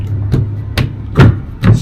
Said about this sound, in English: smack it into place, put a couple of screws in it